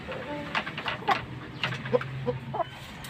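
A gray hen clucks nearby in a backyard coop: a handful of short, uneven clucks and soft throaty calls spread across a few seconds, with faint rustling between them.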